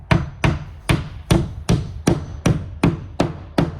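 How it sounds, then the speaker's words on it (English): A hammer strikes nails into wooden siding on a tiny house build, nine sharp, evenly spaced blows about half a second apart, loud and close with no talk. "it's nice using your hammer because you know if you're hitting it or not"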